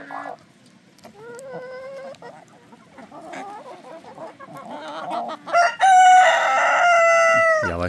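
Roosters on a farm crow and cluck nearby, with scattered clucks and short calls building to a long, loud crow near the end, and no talk.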